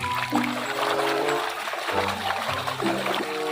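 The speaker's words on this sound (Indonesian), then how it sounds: "Wow, kita siram saja." Water splashes and trickles continuously over a toy monster truck being rinsed, close by, with a soft babble of pouring and sloshing throughout.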